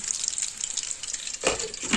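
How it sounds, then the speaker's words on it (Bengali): Food frying in a pan gives a continuous crackling sizzle with a louder, fuller surge of spattering toward the end, heard up close with no speech. "এখানে ভাজা হচ্ছে"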